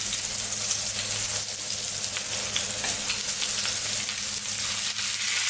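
Chapli kebabs fry in a pan with tomato, giving a loud, steady sizzle with faint crackles and stirring scrapes. The sizzle holds evenly throughout, with no talking.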